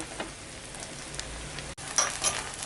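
An egg roll with a sprinkling of onion cooks on a dosa pan, giving a soft, steady sizzle that continues unbroken, briefly drops out, then returns slightly louder.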